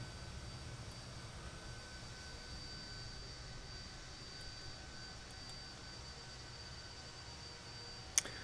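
Southwest airliner in Microsoft Flight Simulator 2020 at Hawaii, its jet engines a faint, steady distant roar and whine, with one brief click near the end.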